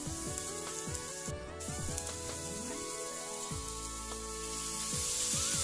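Chili sautéing in a pan without oil, a steady, soft crackling sizzle with faint scraping stirs throughout and no talking.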